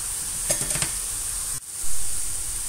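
Besan dantikili snacks fry in hot oil with a steady close hiss and a brief cluster of crackles, followed by a sudden dip and a fresh surge of bubbling sizzle.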